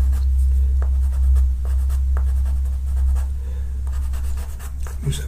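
Pastel pencil drawing on paper, shading grasses beside an animal figure, gives a steady soft scratchy rubbing with short repeated strokes, close and fairly loud over a low background hum.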